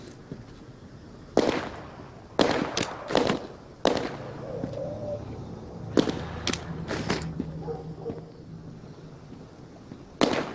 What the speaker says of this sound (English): That was definitely gunshots.